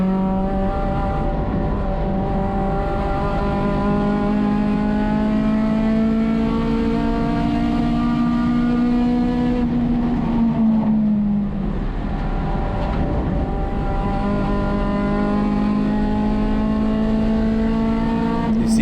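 A touring race car engine from the USTCC series runs at Sonoma Raceway, heard from inside the car at a steady, moderate drone without hard revving. Pitch holds level, then dips briefly around a shift or corner before settling again.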